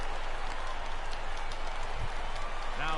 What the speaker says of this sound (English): he'll get himself a nice little ovation for the work he's turned in on the mound so far